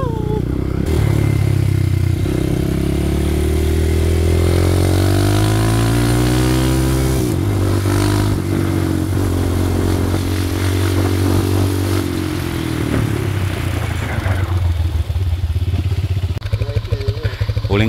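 A motorcycle engine drones and shifts pitch as it rides past, loud and steady for much of the stretch, fading slightly later with a brief rev near the end.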